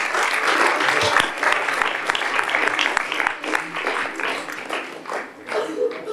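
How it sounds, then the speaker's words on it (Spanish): Audience applause in a children's assembly hall, dense and steady for several seconds, with a few sharper individual claps standing out before it slowly thins toward the end. "Un aplauso."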